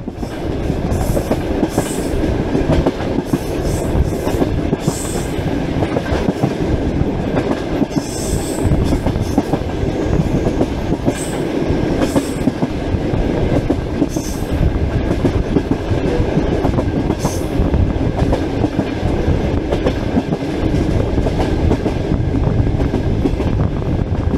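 Inside a long-distance train running from Moscow to Irkutsk, a loud constant rumble with rhythmic clickety-clack of wheels over rail joints and occasional brief high squeals, heard from within the carriage with no talk.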